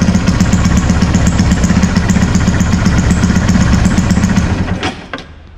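A water-cooled Honda Titan 150 engine mounted in a mini boat runs loud and close with a rapid, even chugging clatter, then shuts off near the end and fades to quiet, with no talk.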